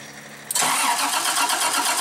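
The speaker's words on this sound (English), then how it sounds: "So I'll let you see right now while I crank it." A GM engine with a bypass ignition system cranks over, cutting in abruptly after a quiet hum and then keeping up a loud, even, rapid starter churn.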